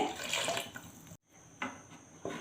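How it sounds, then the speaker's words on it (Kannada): Water poured into a pan of spiced Mangalorean bangude (mackerel) fish curry, a broad close splashing pour that breaks off briefly, then returns in short bursts. "ಸ್ವಲ್ಪ ನೀರನ್ನು ಹಾಕ್ಕೊಳ್ತಾ ಇದ್ದೇನೆ"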